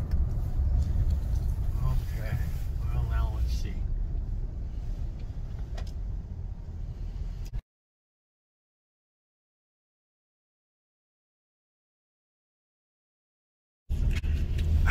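A car drives through a park, its engine and road rumble a steady low drone under a voice, then cutting to total silence for several seconds before the engine noise returns.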